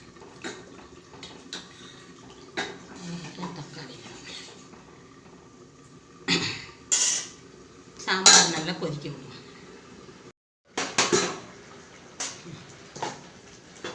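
A spoon scrapes and clinks against a metal pot of sambar in short bursts, close by, with brief pauses between strokes.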